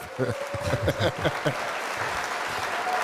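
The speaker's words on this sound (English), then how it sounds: "Hit the clapping button" Applause effect triggered from a clapping button, a few seconds of steady clapping that starts right after brief talk and carries on alone at moderate loudness.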